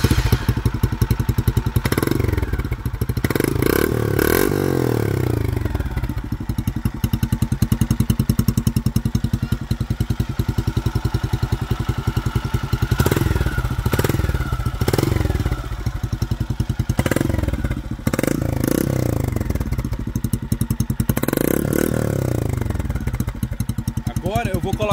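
A motorcycle engine fitted with a homemade indestructible exhaust runs steadily, its loud, continuous throbbing idle and revving drone persisting throughout, with voices audible over it.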